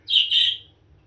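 A young sparrow gives one close, loud, rasping chirp broken into two quick parts, then falls quiet over a faint low background hum.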